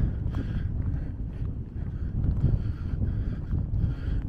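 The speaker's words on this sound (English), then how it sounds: "that's windy over here." Gusty wind buffeting the microphone at the derelict Octel bromine works in Amlwch, a steady low roar with bursts swelling and easing throughout, loud and close with no voices.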